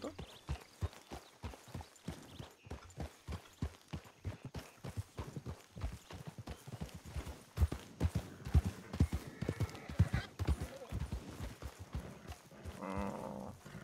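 Horses' hooves clip-clop steadily in Red Dead Redemption, a run of rapid, evenly spaced thuds with livestock sounds mixed in and a faint voice talking underneath near the end.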